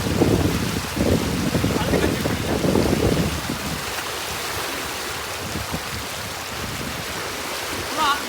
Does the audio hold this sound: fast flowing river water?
yes